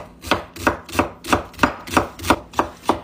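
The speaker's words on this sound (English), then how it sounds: "Cut up some onions." Onions are chopped on a cutting board with a knife, eight crisp, evenly spaced strikes landing close and loud in a steady rhythm.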